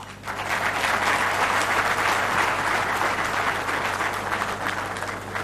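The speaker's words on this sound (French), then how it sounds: "un tonnerre d'applaudissements pour ce discours" A large crowd at a ceremony in DR Congo applauds a speech steadily and loudly, a dense, sustained wash of clapping lasting several seconds with a faint hum underneath.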